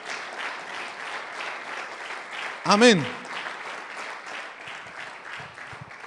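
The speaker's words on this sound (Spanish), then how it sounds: "Un lindo aplauso a nuestro Dios." Steady congregational applause at an evening Spanish-language church family service, sustained across the whole stretch beneath a brief spoken exclamation and a rising tonal sweep from a sound system.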